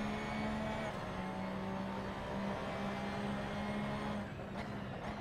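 Race car engine held at full throttle in the Assetto Corsa racing game at Imola, a steady loud drone with constant pitch over the whole stretch, no talk.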